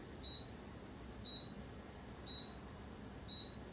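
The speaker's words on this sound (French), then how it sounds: "C'est quoi qui bip dans ma maison ici là?" Four short electronic beeps, evenly spaced about a second apart, high and thin over a quiet room hum.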